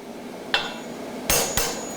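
A blacksmith's hammer strikes hot steel stock on a creaser (fuller) at the anvil: one sharp ringing blow, a pause, then two more quick close strikes.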